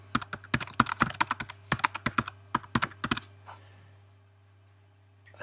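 Rapid bursts of keystrokes on a computer keyboard as a message is typed, clear and close over a steady low hum, then the clicking stops and a quieter stretch follows.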